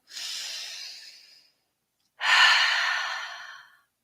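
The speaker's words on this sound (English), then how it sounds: "let's just ground our feet into the earth and take a deep breath together" Two long, slow breaths drawn in and let out, a quieter one followed after a pause by a stronger, fuller exhale, close and alone during a guided grounding meditation.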